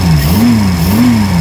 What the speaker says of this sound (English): And when you rev it up